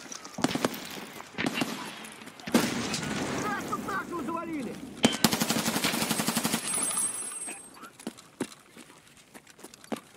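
Gunfire rattles through a round of the video game Escape from Tarkov, with bursts of automatic fire and single shots ringing out, while a player talks over part of it.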